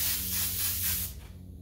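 An airbrush loaded with black paint gives a steady, close hiss of spray that fades out after about a second.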